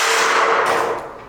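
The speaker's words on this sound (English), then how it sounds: "you're going to take your impact with your 3/4, and we're going to tighten those legs into place" A 3/4-inch impact wrench tightens screw jack legs on a DAKA low-pro dock wheel kit, giving a single loud, harsh metallic burst that fades out near the end.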